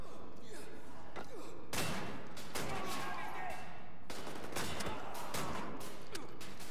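A shotgun fires in the video game Wolfenstein: The New Order, with several sharp, booming blasts spaced a second or two apart amid other game sounds, and someone talks between the shots.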